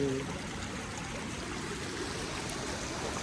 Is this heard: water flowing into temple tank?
yes